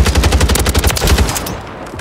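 Rapid automatic gunfire in Modern Warfare 3's Resurgence Warzone mode: loud, dense bursts of shots that fade out near the end.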